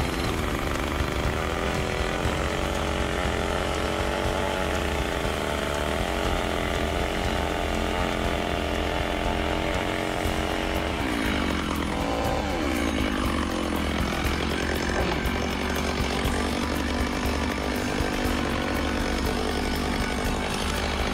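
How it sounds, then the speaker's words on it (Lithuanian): A rented Cramo earth auger bores into stony farm ground, its engine droning loud and steady throughout, with a brief pitch dip and rise partway as the load changes. "Dabar jau su šituo grąžtu įgręžėm kiek reikia čia"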